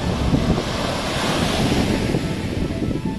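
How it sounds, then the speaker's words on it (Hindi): Ocean surf washing onto a sandy beach at Dhanushkodi, a steady close roar of breaking waves with strong wind buffeting the microphone throughout, no voices. "इतनी शांति मिलती है समुद्र की आवाज को सुन के।"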